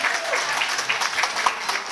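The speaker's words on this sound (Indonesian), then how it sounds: "Beri tepuk tangan yang meriah" Audience at a pesantren Amtsilati recitation demonstration breaks into steady, dense clapping that holds evenly for the whole stretch, with no voices on top.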